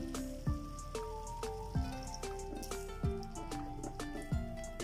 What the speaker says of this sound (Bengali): এখন দিয়ে দিচ্ছি আমাদের রাখা সেই দই। দইটাকে আমি ভালো করে ফেটিয়ে নিয়েছি,